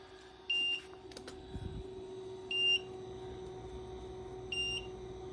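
Three short electronic beeps at regular two-second intervals from a PowerQueen 50Ah LiFePO4 battery's low-battery alarm during a discharge test, clear and high-pitched over a steady hum, with a brief clatter near the start.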